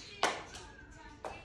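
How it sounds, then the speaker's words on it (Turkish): Two sharp hand claps, spaced about a second apart, close by and fairly loud, with a faint voice between them. "Alkış, alkış. Kocaman alkış."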